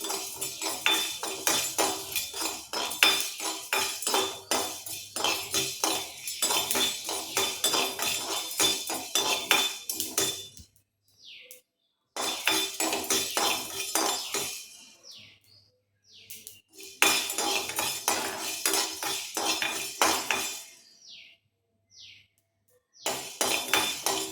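Spices dry-roasted one at a time in a pan for temple-style tamarind rice, with busy repeated scraping and rattling of a spatula in bursts, broken by short pauses of near silence.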